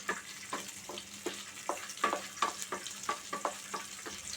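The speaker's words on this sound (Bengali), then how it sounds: "এই একটু নেড়ে চেড়ে যখন আমার কিশমিশগুলো ফুলে উঠবে, তখন বুঝতে হবে যে আমার কিশমিশগুলো ভাজা হয়ে গেছে" Gentle sizzle of raisins frying for semolina halwa underneath a steady series of spatula scrapes and taps against a pan, about two or three per second.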